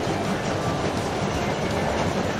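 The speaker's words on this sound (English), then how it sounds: "The train is very fast." A cartoon train rumbles steadily along the rails at speed, a continuous loud roar with faint rhythmic clatter underneath.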